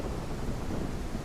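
Rain and thunder fill a stormy scene in the video game Lands of Nedûn: Emberward, a dense, steady wash of rainfall with a deep rumbling undertone.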